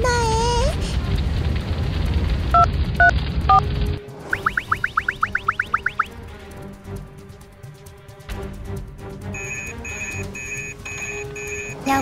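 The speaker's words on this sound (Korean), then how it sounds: "어서 119에 전화해." A toy telephone plays quick descending dial tones, then beeps as a number is dialed in a toy fire rescue story. Rapid chirping tones and a ringing tone follow over faint background music.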